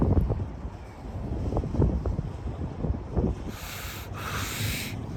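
Wind gusts across a rooftop, a rough, rumbling buffeting against the microphone that rises and falls throughout, with a brief higher hiss near the end.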